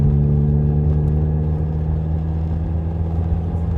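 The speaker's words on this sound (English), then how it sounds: "I really like the rowdy sound of the SR20" A 1994 Nissan Pulsar GTI-R with its SR20 engine runs loud and close, a low steady rumbling drone that holds at a constant pitch rather than climbing, with no talk over it.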